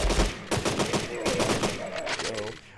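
Rapid gunfire rattles in the shooter video game Deadly 30 as enemies are shot, with dense repeated bursts fairly faint in the mix and a voice speaking intermittently.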